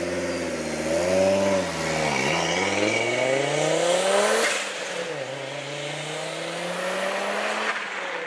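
An Audi Ur Quattro fitted with an RS2 engine accelerates hard in second gear, its turbocharged note climbing steadily and then dropping at a shift before pulling again. The engine drones loud and continuous from inside the car.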